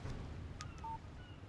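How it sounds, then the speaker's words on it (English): A phone text message alert in Alan Wake Remastered, two short high electronic beeps over a quiet windy outdoor ambience, faint and brief, with no talk. "Text message from Barry."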